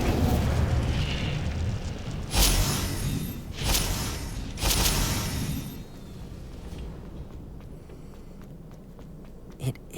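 The Incendio fire spell in Hogwarts Legacy, cast as a few loud, bursting whooshes that rise over a rumbling game background and then fade.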